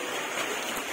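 Light rain falling outdoors at a birthday party with a roast pig cooking, a steady soft hiss of drops with no distinct individual impacts.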